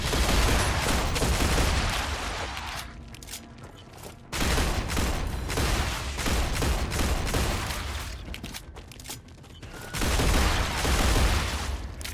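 Loud bursts of gunfire in the survival automation game Star Rupture, with rapid firing in long stretches broken by brief pauses, heavy and close throughout.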